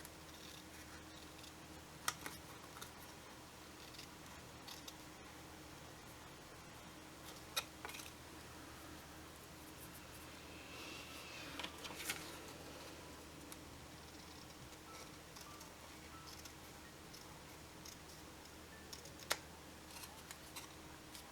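Scissors trimming excess paper while making an envelope flip cover: a few sparse, quiet snips and clicks scattered over a faint room hum.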